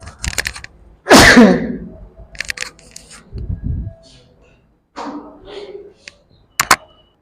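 A single loud, explosive sneeze erupts from a man during a geography lecture, followed by scattered clicks, taps and brief bits of muffled voice.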